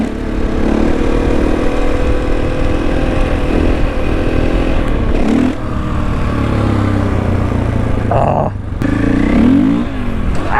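A new motorcycle engine runs loud and close, holding a steady rough idle with a few revving swells and brief dips, heard alone without speech.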